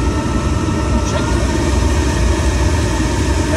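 A Chinese diesel heater with a fault runs with a steady, loud, even roar. The rushing hum does not change and fills the whole stretch.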